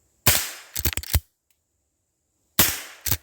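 Two sharp, loud shots from a Henry .22 lever action rifle fired outdoors at targets, a couple of seconds apart. Each crack is followed by a quick cluster of metallic clacks, then silence.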